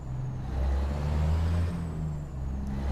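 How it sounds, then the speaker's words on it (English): Truck engine heard from inside the cab in American Truck Simulator with realistic mods, in a soundproofed cab that keeps it quieter than other trucks: a steady, low droning hum that holds evenly throughout, with no talking. "So I think the truck in itself comes with soundproofing, because it doesn't sound as loud in here as some of the other trucks"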